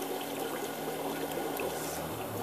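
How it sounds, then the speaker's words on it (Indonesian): A submersible water pump keeps running with the tap closed, a steady watery churning and rushing hum that stays loud and even throughout, with no talk over it. "keran ditutup seperti ini ya, pompa tetap nyala ya, pompa ini tetap beroperasi"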